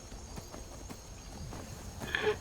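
A horse walks in the video game Skyrim, its hooves clip-clopping in a slow, steady rhythm, moderately close, over a quiet ambient background with no talk.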